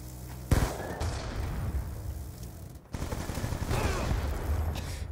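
Rapid gunfire in the video game Black Ops 2, dense bursts of automatic shots with a sharp crack near the start and another heavy burst midway, loud and continuous throughout.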